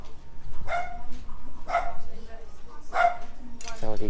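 In a Thai fishing village, a dog gives three spaced barks at a moderate distance while people chat nearby.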